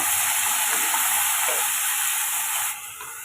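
Chicken sautéing with ginger garlic paste and salt in a pan gives a steady, close sizzle and hiss, even and unbroken, fading slightly at the end, with no talking.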